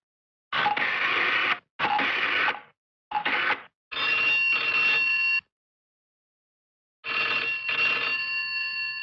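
A telephone rings in a scene from the Hindi film Ghar, with repeated bursts of electronic ringing separated by short pauses, close and clear, and no voices.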